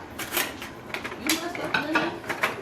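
A knife and fork handled against dishes while cooking chicken marsala: light metallic clinks and taps in an irregular rhythm, close by, with people talking over them.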